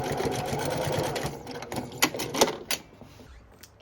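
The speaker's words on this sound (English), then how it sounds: "now I'm going to go secure this on the machine with an 1/8 inch seam allowance" A sewing machine stitches an eighth-inch seam securing a pocket, running in a fast close burst and then slowing into a few short separate pulses before stopping.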